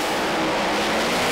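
A Pro Mod drag racing car at a British Drag Racing Championship round launches hard off the start line, a loud, dense engine roar that fills the whole short moment with no voices over it.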